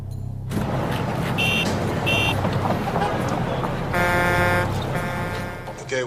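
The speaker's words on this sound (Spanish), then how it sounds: "Ahora el ruido de tráfico para compararlo." Recorded road traffic noise played back for comparison, a loud continuous rumble of passing vehicles with car horns and a buzzing, alarm-like tone cutting in repeatedly over the steady din.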